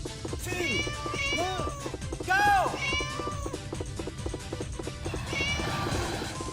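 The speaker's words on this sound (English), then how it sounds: "When you play as the cat, it meows like every 5 seconds." An electronic cat in the Scud Race arcade racing game meows repeatedly, several clear synthetic mews sounding every second or so over a droning engine and game sounds, with a voice talking over parts of it.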